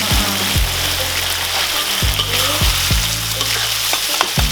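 Loud, steady sizzle and crackle of anchovies frying with eggplant in a hot pan, punctuated by several low thuds and scrapes of stirring, with no voices.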